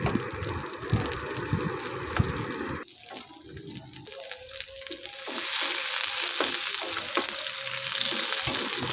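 Capsicum sizzles and hisses in a hot kadai as it is stirred, with scraping and clattering, the frying growing steadier and brighter after a moment.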